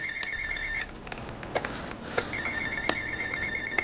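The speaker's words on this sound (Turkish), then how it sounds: "Telefon çalıyor, telefonu açalım bir." A phone rings in a Turkish-modded GTA video game, a repeating electronic ringtone trill in bursts over game background noise and scattered clicks, with no talking.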